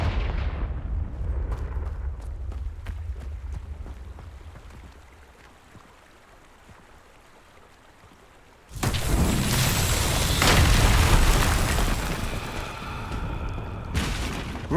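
A Confringo blasting spell explosion in Hogwarts Legacy on Xbox Series X: a sudden loud burst of sustained crackling roar that follows a low rumble and quieter stretch, with a second burst near the end.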